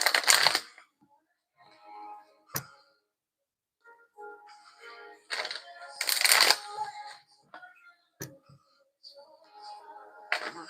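Tarot cards being shuffled in several quick riffling bursts separated by quiet pauses, close and crisp, with some speech between the bursts.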